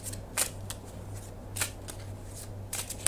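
A Lenormand deck being shuffled for a tarot reading: soft papery riffles and card slaps in several short bursts over a faint steady hum, with no voices.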